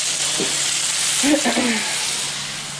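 Cajun pasta ingredients sizzle in a pan with a loud, even hiss throughout, while a voice murmurs briefly underneath.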